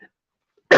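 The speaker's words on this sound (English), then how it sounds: "I'm trying to hold back this damn cough that randomly came sneak up on me" A single sharp cough bursts out at the very end after near silence, loud and close.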